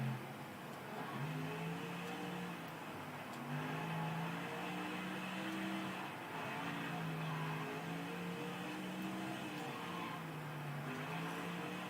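A NASCAR stock car engine in the racing game NASCAR Thunder 2004 at the Daytona road course drones loudly and steadily, its pitch rising and falling as the car is driven hard through corners.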